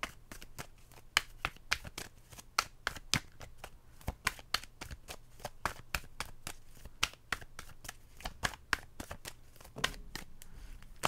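Tarot cards are shuffled repeatedly close up, a steady run of crisp riffling flicks and taps with no talking.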